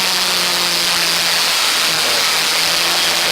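A historic Formula Ford race car at Donington Park, a loud sustained engine drone holding a steady pitch as it heads down toward Redgate Corner, with no voices.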